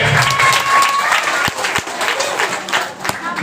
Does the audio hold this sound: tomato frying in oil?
no